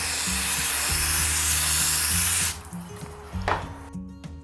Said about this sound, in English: I was liberal with the brake cleaner, spraying it in there